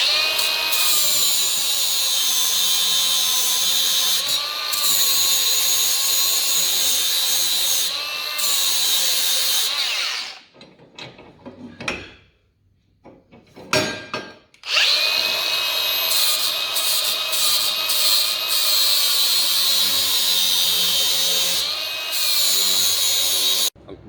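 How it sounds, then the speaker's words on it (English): An angle grinder grinds a lug off a steel 10-bolt differential housing from an HJ ute, a loud continuous high whine that drops out briefly midway, sputters, then resumes at full strength to the end. "I'm just going to grind the lug off of here a little bit"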